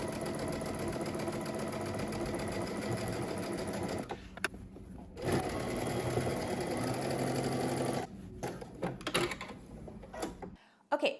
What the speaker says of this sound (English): go ahead and stitch on the wrong side of your fabric so that you obviously have more visibility and you can create a nice straight line